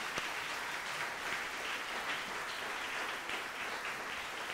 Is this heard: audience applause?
yes